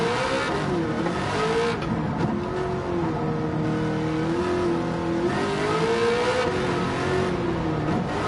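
A race car engine in a racing video game, revving steadily with a rising and falling whine that holds throughout, loud and continuous with no talk over it.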